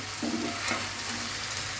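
Broad beans fry with a little tomato and potato in a pan, giving a steady soft sizzle and frying hiss with faint stirring throughout.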